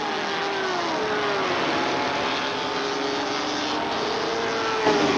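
Racing motorcycles scream around the banked track at Daytona International Speedway, with high engine whines rising and falling as bikes pass at middling distance, a steady roar under them.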